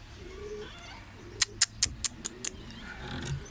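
An Indian bulbul gives a quick series of six sharp, high chirps over a low background hum, fairly close.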